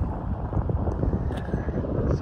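Strong wind buffets the microphone at a highway rest area, a continuous low rumbling roar with gusty fluctuations throughout.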